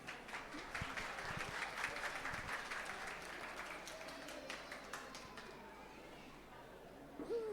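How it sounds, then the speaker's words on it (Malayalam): Audience applause for the parish vicar and everyone named Joseph at a church feast-day gathering, a steady moderate clapping that fades out toward the end, with some chatter and a voice mixed in. "നമുക്ക് നമ്മുടെ വികാരിയച്ഛനും എല്ലാ ജോസഫ്മാർക്കും നല്ലൊരു കയ്യടി കൊടുക്കാം."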